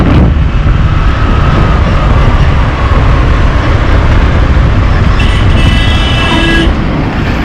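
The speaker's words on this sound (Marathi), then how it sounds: "मोठमोठ्या गाड्या मोठमोठे टँकर" Heavy traffic of big trucks and tankers grinds up the Kasara Ghat mountain road. The engine roar is loud and continuous, close by, and a horn blares for over a second near the end.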